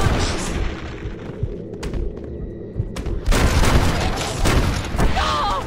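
Gunfire erupts during a shootout in Red Dead Redemption, with scattered loud shots and booming bursts over a rumbling background that swell louder toward the end, while voices sound faintly in between.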